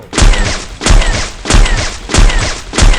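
An AWM sniper rifle fired without a scope in a shooter video game, five loud booming shots in a steady rhythm about every two-thirds of a second, each with a brief rumbling tail.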